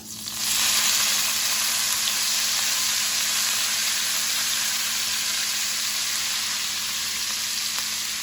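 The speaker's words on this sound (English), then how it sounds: "We want to just bring it into this cast iron skillet." Cabbage fries with bacon in a cast iron skillet, a loud, steady sizzle that bursts in at the start and holds evenly throughout with no talking.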